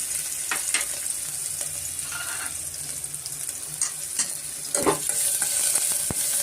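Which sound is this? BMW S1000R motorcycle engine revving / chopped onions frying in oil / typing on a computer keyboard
chopped onions frying in oil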